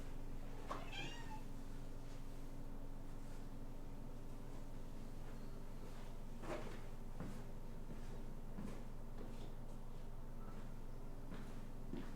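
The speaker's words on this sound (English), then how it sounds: "I've got to quickly deal with my cat because she's brought an animal into my home." A pet cat meowing indoors, a few short, separate calls over a constant low background hum, with no talk.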